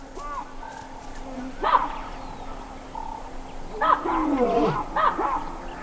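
Male lions roar in the wild, a few deep calls rising from a noisy outdoor bed around the two and four second marks, with some birdlike chirps mixed in.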